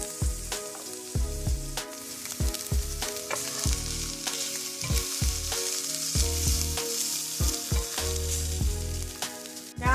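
Chili with chili powder sizzles and fries in a pan while being stirred, a steady crackle broken by repeated scraping and clinking strokes, close and without talk.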